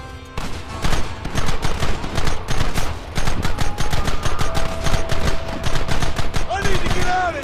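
Rapid, loud bursts of gunfire in a Red Dead Redemption shootout, sharp shots cracking in quick rhythmic volleys with short pauses between, close and heavy, with a brief whistling tone near the end.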